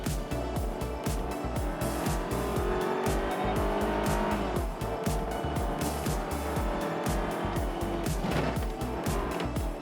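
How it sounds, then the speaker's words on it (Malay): Kia Sorento 2.5-litre engine revving hard toward 4,000–5,000 RPM, a loud continuous roar with rhythmic pulsing and a rising, shifting pitch, close and alone with no talking. "kalau once tekan ni, RPM ni memang naik gila-gila tinggi lah"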